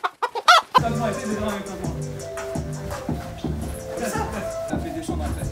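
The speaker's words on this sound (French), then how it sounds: "Ça c'est la poule." A hen clucks close by in a steady run of short, repeated calls, with a few sharp bursts of noise at the start.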